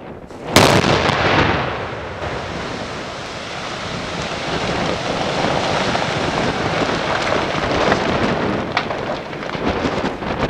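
An explosive charge blasting an ice jam on the Ogre river in Latvia during flooding goes off with a sudden sharp boom, followed by a long roaring rush of water and debris that stays loud and continuous.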